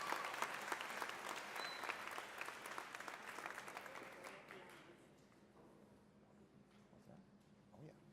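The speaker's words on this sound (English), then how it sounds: "I'd also like one more round of applause for Reverend Winterbourne Harrison Jones" An audience claps for a speech at an annual Martin Luther King Jr. tribute, loud sustained applause that fades out after about five seconds, leaving quiet room sound with faint voices.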